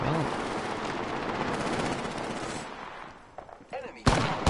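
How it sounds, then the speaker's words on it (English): Rapid automatic gunfire in the battle royale game Apex Legends rattles continuously and loudly, then thins into scattered single shots and a final sharp burst. "Opening fire on the enemy."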